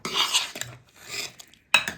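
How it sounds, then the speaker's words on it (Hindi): A pressure cooker lid is worked open after the cooker has whistled, making close metallic scraping and clinking in three short bursts with brief pauses between them. "फिर से कुकर खोलने जा रहा हूँ।"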